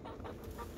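A backyard chicken clucks in a few soft, short bursts over steady outdoor background noise on a cold February day in a garden, with no one talking.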